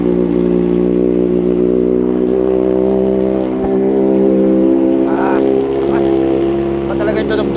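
Kawasaki ZX-4RR motorcycle with a full titanium exhaust idling and revving close by, a steady harmonic engine drone with light throttle blips, while a voice talks over it.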